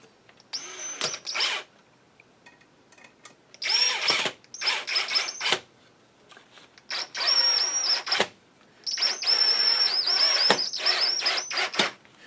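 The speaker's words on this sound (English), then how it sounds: "I don't go too tight with the power drill." A power drill drives screws through a rubber recoil pad into a rifle stock, whirring in four separate bursts of a second or two each, close and fairly loud, with short pauses of near silence between runs.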